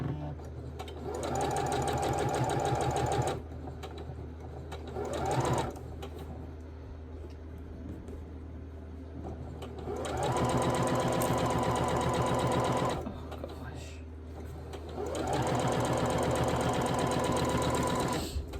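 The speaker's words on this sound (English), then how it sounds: "I'm sewing to the left and right of the middle." A sewing machine stitches a barn star quilt block in bursts of rapid mechanical whirring, stopping and starting several times, close and steady, with a voice talking between runs.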